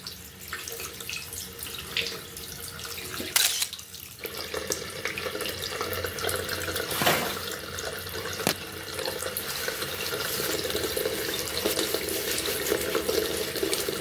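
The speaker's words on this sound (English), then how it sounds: "Rinse your hands and dry thoroughly." A tap runs steadily while hands are rinsed beneath it, a continuous broad splashing hiss with a few brief sharper spatters from the moving hands, close by with no speech.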